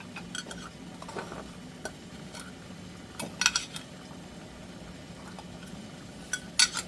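Small metal salve tins clink and tap as they are handled and set out on a kitchen counter, a few light scattered metallic knocks over a quiet, steady background.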